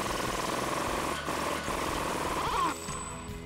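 A 36 mm axle nut on a 2019-2021 RAM 1500 comes off with a socket driven by a power tool. A loud, steady rattling buzz runs for under three seconds, then drops to a quieter mechanical hum.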